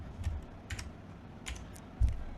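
A few quiet, scattered keystrokes on a computer keyboard while code is typed, with isolated clicks and a louder thump near the end, sounding close and otherwise alone.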